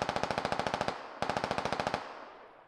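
Two fast bursts of automatic gunfire crackle in the military shooter Operation: Dust Devils, each a string of about a dozen sharp evenly spaced shots trailing into a short echo.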